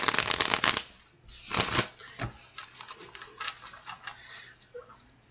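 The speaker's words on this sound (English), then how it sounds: "I will begin your shuffle." Tarot cards being shuffled close up: a loud riffling burst at the start, then another, followed by quieter intermittent flicks and taps of the deck, with no talking.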